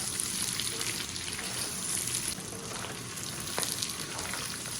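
Scallion and ginger sizzle in hot oil in a wok, a steady crackling fry with light scraping as they are stirred.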